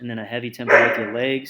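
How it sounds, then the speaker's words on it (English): A dog barks in the background of an indoor setting while someone talks continuously over it, the yips faint and partly buried under his voice. "Excuse my dog."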